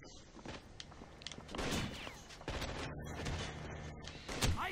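Enemy gunfire in the shooter game Rainbow Six Vegas 2: several sharp shots and short bursts crack at moderate distance over a rumbling game soundscape, growing louder toward the end.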